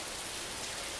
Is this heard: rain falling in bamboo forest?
yes